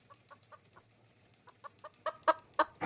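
A chicken clucks in short repeated bursts, starting soft and spaced, then turning louder and quicker toward the end, with no talk over it.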